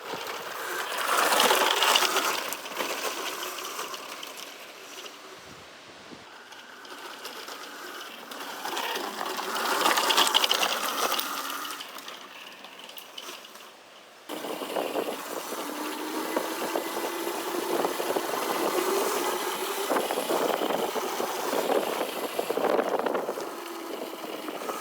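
Xekoya XE100 electric dirt bike ridden over rocky, muddy trails, giving a continuous mechanical whir with rattling and clattering from the terrain, rising and falling in intensity with no talking.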